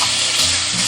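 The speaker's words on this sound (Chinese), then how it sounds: "锅中来一点食用油，切下培根中小火煎。" Bacon sliced into a pan with a little cooking oil sizzles steadily over medium-low heat, a dense, even frying hiss filling the short moment with no talk.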